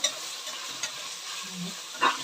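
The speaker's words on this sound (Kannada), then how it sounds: "ಎಣ್ಣೆಲಿ ಚೆನ್ನಾಗಿ ಕೆಂಪಾಗಬೇಕು ಈರುಳ್ಳಿ ಎಲ್ಲ ಸ್ವಲ್ಪ" Onions fry in oil in a pan with a dense, close sizzle, a soft low scrape partway through, and a louder stirring clatter near the end.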